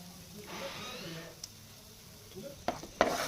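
Spices, salt and fresh cream are stirred in a pan over a gas flame, a soft scraping swirl under a gentle sizzle, ending with a few sharp clinks of a spoon against the pan.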